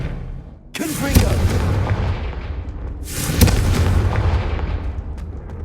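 Two loud magical blasts from the Confringo spell in Hogwarts Legacy on PS5, each a sudden booming burst at about one and three and a half seconds, trailing off into rumbling roars.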